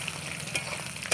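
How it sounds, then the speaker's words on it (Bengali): Chicken pakoras coated in arrowroot and gram flour fry in hot oil, a brief close-up of steady crackling sizzle with a few louder pops. "এখনও আমাদের পকোড়া ভাজা চলছে"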